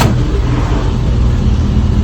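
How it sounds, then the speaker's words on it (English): A 1275 A+ engine in a retro racer car idles steadily with a low, rough rumble, close and fairly loud, with no voices over it. "under the bonnet we've got a 1275 A+ engine, and you can hear that, you can tell we've got some problems"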